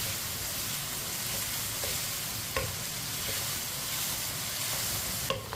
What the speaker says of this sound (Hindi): लहसुन और प्याज को भी 2 मिनट के लिए फ्राई कर लिया मैंने साथ ही।